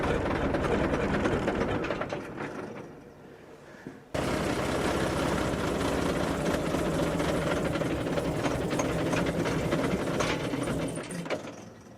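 A green farm vehicle's engine idling nearby as a steady low mechanical rumble, dipping briefly before resuming at an even level with no talk.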